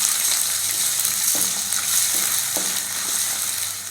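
Shallots, red chillies, curry leaves and ginger garlic paste sauté in hot oil for a South Indian cabbage and carrot poriyal, sizzling steadily up close with a few light stirring scrapes and no talking.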